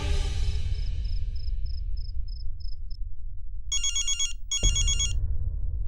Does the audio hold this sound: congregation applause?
no